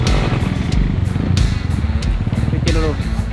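A motorcycle ridden through water to wash it: a close, rumbling engine with splashing and clatter, mixed with people talking and shouting over it.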